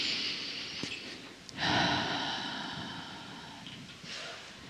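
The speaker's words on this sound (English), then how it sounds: "And take another breath." A person draws in a deep, audible breath through the nose during a guided breathing meditation, a close, soft rush of air that swells and then slowly fades, with a few quieter breath sounds around it and no talk.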